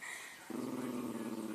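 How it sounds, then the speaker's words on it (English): A dog gives a low, continuous growl that starts abruptly and holds steady, close and fairly loud. "Come on, this dog wants you to wake up."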